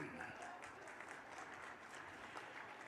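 Rally audience in Gwalior clapping, a dense continuous wash of applause from a large crowd lasting the whole clip.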